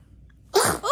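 A newborn baby sneezes once, a sudden close burst after a quiet pause during a first bath, followed by a short breathy tail.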